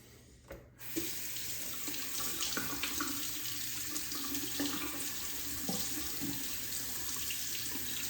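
A shaving razor rinsed under a running tap, a steady close rush of water with faint clinks and splashes, starting after a brief knock and continuing without talk.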